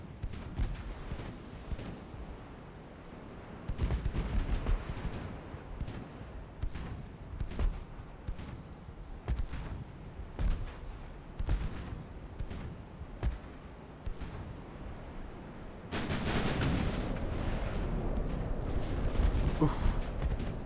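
Naval guns firing in Ultimate Admiral: Dreadnoughts, 9-inch turrets among them: repeated booming shots at irregular intervals under ongoing commentary, with a heavier, sustained rumble of fire near the end.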